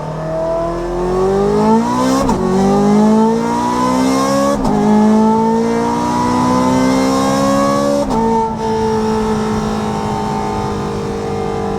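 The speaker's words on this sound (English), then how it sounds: "we've got the Valvetronic exhaust that we installed" A Ferrari 430 Scuderia engine revs repeatedly through a loud Valvetronic exhaust, pitch climbing and dropping in several pulls with sharp gear-change breaks, close and alone.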